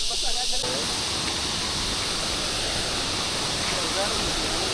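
Steady broadband rush of Tagbibinta Falls pours continuously, loud and even, filling the whole stretch with no breaks.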